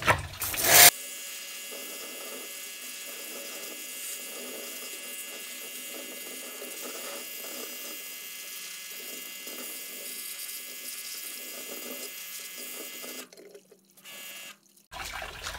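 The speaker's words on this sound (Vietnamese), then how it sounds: "nhờ có cái máy xịt này thì ok rồi sợ gì nó nữa" A steady, hissing spray of pressurized water from a pressure washer cleaning a Stihl 660 chainsaw runs continuously for several seconds, with a brief clatter at the start and a few breaks near the end.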